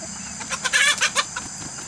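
Several short clucks from hens nearby, a quick burst of fowl calls over faint background hum.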